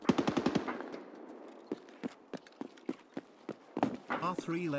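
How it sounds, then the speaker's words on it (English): Mounted machine gun firing in Escape From Tarkov, a rapid burst of loud close shots followed by scattered single reports and short bursts, with a voice talking over the end. "I didn't even know there was a mounted machine gun over here"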